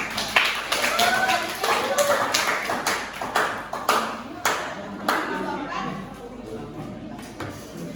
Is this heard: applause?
yes